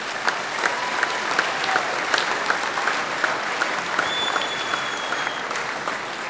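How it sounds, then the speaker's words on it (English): A crowd at a national shearing competition final gives sustained, even applause, a dense patter of many hands with a few sharper claps and faint whistles. "these elite athletes really deserve another round of applause"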